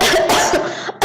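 A single person's cough, close and loud, rough and breathy with a brief throat-clearing quality, cutting off abruptly at the end before a short fresh burst.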